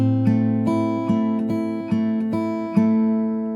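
Fingerstyle acoustic guitar picks O Come O Come Emmanuel, a thumbed bass note under evenly plucked treble notes on a steady four-beat count, close and clear with no talking.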